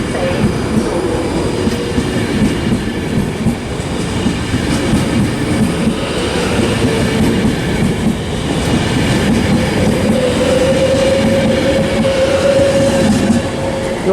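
A TransPennine Express train pulls into Birmingham International station, the rolling rumble of wheels on rail close and loud, with a high brake squeal rising near the end.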